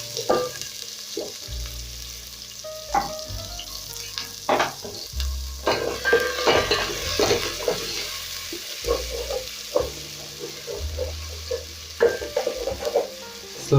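Onions dropped into hot cooking oil in a pot, a crackling sizzle broken by repeated scrapes and knocks of a stirring utensil, close and moderately loud, without speech.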